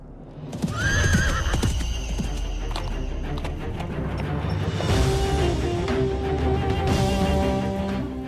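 A horse for a royal Ashvamedha sacrifice in a mythological drama whinnies loudly near the start, while its hooves clip-clop steadily throughout, with further neighing and a faint bird call over a busy background.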